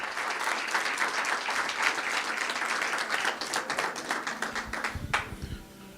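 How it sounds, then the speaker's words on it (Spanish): Steady applause from a large church congregation fills the clip, with many hands clapping together before it thins out near the end. "Dele un aplauso al Señor con todo su corazón"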